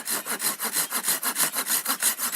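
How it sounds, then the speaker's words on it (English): Hand saw cutting a wedge-shaped slot into a wooden board for a bow drill fire set, a quick, even run of about a dozen rasping back-and-forth strokes, close and alone. "I'm going to cut a wedge-shaped slot out of this board"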